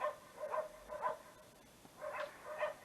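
A dog barks four times in two pairs, moderately close, with short yips between, outdoors in a rain-soaked yard with no one speaking.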